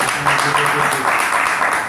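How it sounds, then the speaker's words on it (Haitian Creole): Audience applause at a Haitian gathering, a dense wash of many hands clapping steadily for two seconds, fairly loud with a murmur of voices mixed in. "Nous avons un bel applaudissement pour ces carisiennes côté de là"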